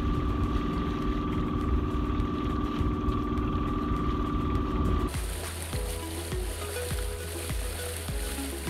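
A sailboat motors at sea on its engine, a steady droning hum with a constant tone, then a shift into a rougher, rhythmic knocking rumble, loud and continuous throughout.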